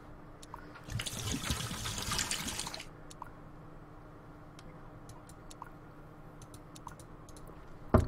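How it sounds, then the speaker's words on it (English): Gasoline pouring in a creepy abandoned-asylum horror video game, a broad splashing trickle of liquid running for about two seconds, then dying away to quiet room tone with faint ticks. "Pour gasoline in there."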